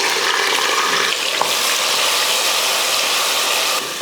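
Ground onion paste frying in hot oil with spices, giving a loud, steady broadband sizzle that fills the whole stretch alone, with one brief dip near the end.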